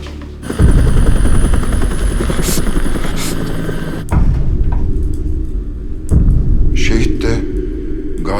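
A helicopter's heavy rotor thumps and roars loudly and close throughout, with voices talking over the engine noise.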